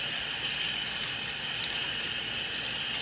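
Cold water streams from a tap over a tumbler carrying a DTF print, a steady, even rush of running water heard close and alone throughout.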